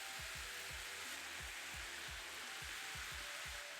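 Bean thread vermicelli noodles dropped into a well in a hot stir-fry pan give a steady soft sizzle, with faint regular low ticks running underneath and no talking.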